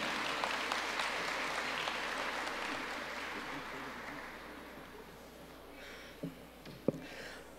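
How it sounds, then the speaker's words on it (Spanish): Applause from an audience at a credentials ceremony for the 2023 elections in Cotopaxi, steady clapping that fades toward the end, with a couple of sharp knocks near the close. "Un fuerte aplauso, muchas gracias."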